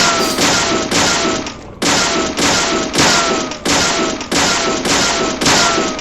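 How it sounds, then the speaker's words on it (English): Wooden boxes smashed in Deadly Premonition, a rapid series of about eight loud crunching impacts in steady succession, each a heavy thud with splintering crackle, close and dominant. "An area where destroying boxes occurs."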